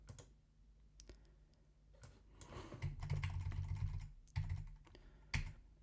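Computer keyboard keys are pressed in irregular bursts to move around in a stadium guessing game, with close, quiet clicks and taps, some quick runs of typing and a few louder single strokes.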